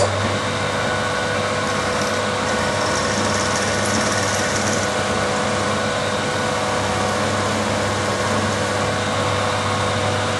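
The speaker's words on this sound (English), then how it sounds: "When I'm using small drills, I like to feel in with a quill like that" A small drill is fed by hand with the quill on a machine, a continuous loud, steady mechanical hum and whine with a low motor drone throughout and no talk.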